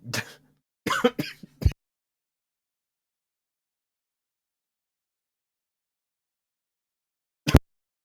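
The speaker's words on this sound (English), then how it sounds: "So then I started coughing." A person coughs and clears their throat in a few short, close bursts near the start, then falls silent before one final brief cough several seconds later.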